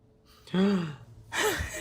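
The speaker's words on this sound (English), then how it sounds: "Gasp." A person gives two sharp, breathy voiced gasps in quick succession, close and clear, in a quiet indoor scene of an audio drama.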